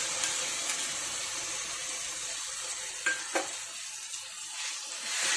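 Ground roasted coriander, cumin, fennel and black pepper tipped into a hot pan and stirred, giving a steady sizzle with a couple of brief scraping clicks, close and alone.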